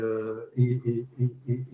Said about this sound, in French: c'est le chat, pardon.